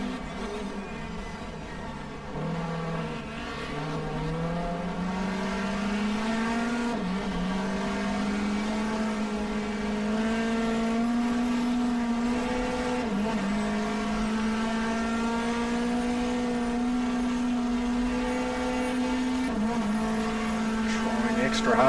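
An MG race car in a 1994 GTR2 Australian Manufacturers Championship race at Phillip Island, its engine droning loud and steady from on board, the pitch climbing and shifting through gears over a crest.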